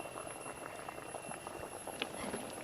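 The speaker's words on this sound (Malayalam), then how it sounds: "നല്ല ചൂടുള്ള എണ്ണയിൽ വേണം ഇത് ഇട്ട് കൊടുക്കാൻ" Soft, steady sizzling of Malabar-style pathiri frying in hot oil, with faint scattered pops and crackles throughout.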